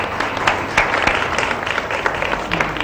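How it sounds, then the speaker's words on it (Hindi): Studio audience on a morning TV show applauding an under-16 football team: a continuous wash of clapping from many hands, moderately loud and steady throughout. "एक दफा फिर इन सबके लिए तालियां"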